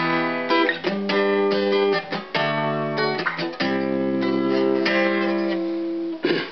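Guitar playing part of a song, with clean chords and fingered double-stops ringing in short repeated phrases and brief gaps between them, close and moderately loud, with no talking.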